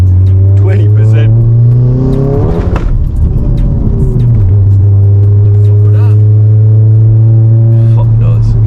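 A 500 BHP VW Golf GTI engine held at part throttle on a wet road, a loud close droning note that dips and swells once mid-clip before settling back into a steady hum.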